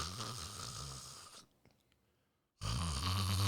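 A man imitates the snoring of a man dozing off during a Saturday morning lecture, with loud rasping snore bursts on either side of a near-silent pause.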